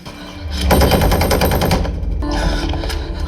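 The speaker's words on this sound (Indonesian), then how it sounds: "Dan terjadilah baku tembak hebat." A fierce gunfight in an action film: dense, rapid machine-gun bursts crackle loudly and close, overlapping into a sustained volley of shots with no voices.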